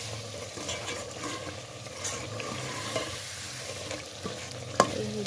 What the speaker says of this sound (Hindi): चिकन को मैंने अच्छे तरीके से भून लिया है, तो अभी इसमें मुझे मेथी मैंने बॉयल की थी वो डालती हूँ